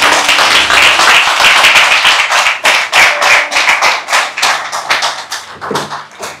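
A church congregation claps to acclaim the Lord, a loud, steady run of hand claps that loosens into more scattered, uneven beats toward the end, with no voices over it.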